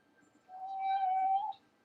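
A single cat meow in the video game Hustle Cat, a clear tonal cry lasting about a second, alone against near silence.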